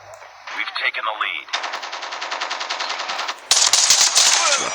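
Rapid semi-automatic fire from a Type 63 rifle, a Chinese SKS version, in Call of Duty Mobile: loud, close, evenly spaced shots in a steady stream, breaking off briefly before a louder, brighter burst resumes.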